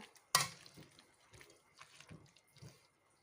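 Redcurrants are washed by hand under water, giving faint, scattered splashes and drips with a sharper splash near the start, then soft intermittent sloshing at low volume.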